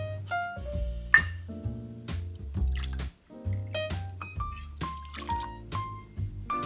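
Sazerac rye whiskey glugs from a bottle into a cocktail glass in a string of close, pitched gurgles and drips, each note stepping upward, with a brief pause partway through.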